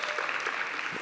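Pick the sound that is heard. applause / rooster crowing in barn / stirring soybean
applause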